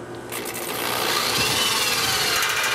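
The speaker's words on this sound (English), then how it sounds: "I guess I'm gonna just try to drill around it." Power drill boring around a stuck hole-saw bit in a plastic rainwater barrel, a steady high-pitched whine that spins up after a brief pause and holds loud and constant to the end.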